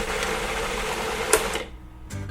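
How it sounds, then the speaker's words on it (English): Garlic, serrano chile, herbs and tomatillos are ground into a thick paste in a kitchen appliance for a vegan green pumpkin seed mole. A steady, close motor whir runs for about a second and a half, then stops abruptly. "All right, we're gonna grind this into a thick paste."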